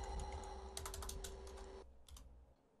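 Rapid typing on a computer keyboard during a Sonic.EXE webcam horror game, with dense irregular key clicks through most of the stretch and a steady electronic tone that drops away partway, then a few final taps.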